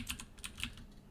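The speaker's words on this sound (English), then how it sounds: "Oh yeah, you can just also type." Several quick keystrokes on a computer keyboard, light clicks in an uneven rhythm ending with a sharper tap, close and quiet with no speech.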